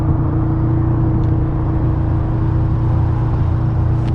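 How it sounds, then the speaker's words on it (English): A turbocharged Toyota GT86 engine idles with a deep, steady exhaust rumble, close and loud, holding an even drone without speech. "showcase the exhaust again. This shit crazy."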